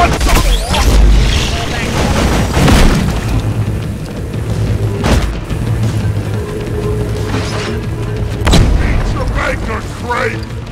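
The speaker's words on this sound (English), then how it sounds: "That was a good nade, I think." Grenade blasts in the video game Deep Rock Galactic, several loud booming explosions at about one, three, five and eight and a half seconds over constant game noise and rumble, with occasional voices in the mix.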